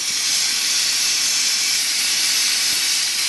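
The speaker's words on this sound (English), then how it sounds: "As you can see, I'm getting the pressure, and also my yellow valve is coming up." A pressure cooker comes up to pressure while Cuban ropa vieja cooks, letting out a loud, steady hiss of steam from its valve that holds unbroken throughout, with no voices.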